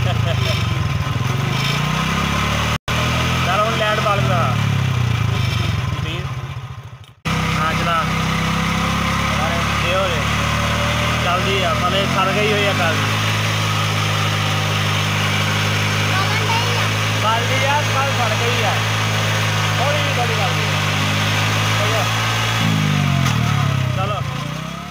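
A motorcycle engine runs steadily and loudly throughout with a droning idle, briefly cutting out around seven seconds before resuming, while someone talks over it.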